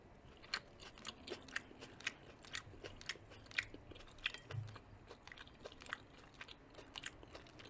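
Close, crisp chewing and biting of lemony chicken with onion and garlic, a steady run of wet crunches and mouth clicks at an even pace, quiet and intimate with no talking.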